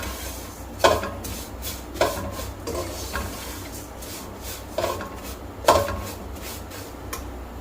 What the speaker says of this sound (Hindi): और समियों को मैं अच्छी तरह भून लूंगा।